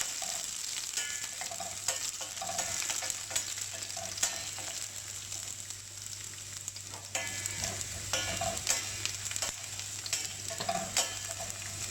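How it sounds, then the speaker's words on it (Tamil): Garlic and dried red chillies fry in hot oil with a steady crackling sizzle, broken by occasional sharp pops and stirring clicks, close and continuous with no voices. "கொஞ்சம் பொரியட்டும்."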